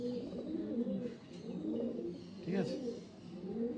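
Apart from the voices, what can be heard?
Telangana fulshira pigeon chicks cooing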